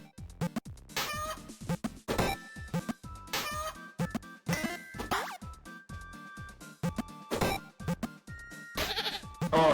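A goat in the video game Little Goody Two Shoes bleats again and again, a run of loud, wavering cries spaced by short pauses, with no talking over them.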